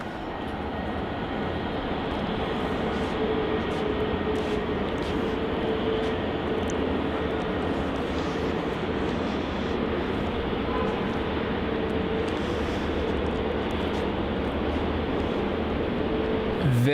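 A Fiji Airways Boeing 737 MAX takes off on flight FJ934 to Nadi from Melbourne Airport, its engines a broad, steady roar that holds moderately loud and distant the whole time, with faint radio chatter now and then.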